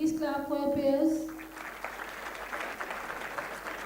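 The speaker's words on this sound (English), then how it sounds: "Dear students, please clap for your peers." Students at an engineering institute convocation ceremony break into applause after a short opening of tonal voice or music, the clapping then continuing as a moderate, steady patter.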